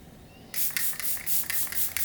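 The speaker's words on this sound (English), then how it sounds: "What's that do? Setting spray." A makeup setting spray bottle hisses in several short, close bursts after a brief quiet moment, each spritz a soft airy puff in rapid succession.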